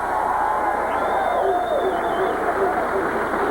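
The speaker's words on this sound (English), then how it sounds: "I must have a lot of Trailblazer fans out there. You guys are loud." Loud, sustained crowd of Trailblazer fans cheering and roaring at the 1990 Oregon Open, a dense continuous wash of voices with a few whistles rising above.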